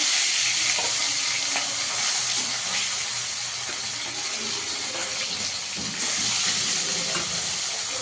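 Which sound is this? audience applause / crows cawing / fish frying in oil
fish frying in oil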